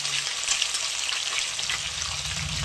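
Fish pieces frying in a pan with a steady, loud, continuous sizzle and crackle of hot oil, close up and unbroken, with no voices.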